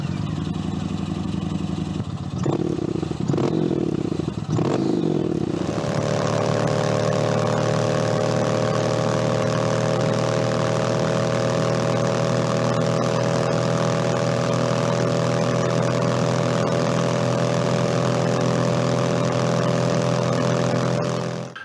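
A 2005–2012 Yamaha MT-01 with a 1670cc V-twin engine settles into a steady, loud close-range idle after a few short blips of the throttle, a deep even throb running on alone without any talk.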